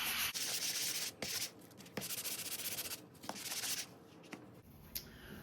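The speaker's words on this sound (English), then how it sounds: "I just took a sanding block and I went and sanded it." Repeated scratchy, close strokes from a sanding block rubbed across paper paint strips for collage crafting, steady back-and-forth rasping with brief pauses, quiet and without talk.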